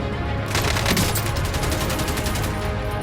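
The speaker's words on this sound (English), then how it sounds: "Damn, Isaac, your machine gun sucks ass" Rapid machine-gun fire in the video game Warzone, a loud, close burst of evenly spaced shots running for about two seconds, with no voices.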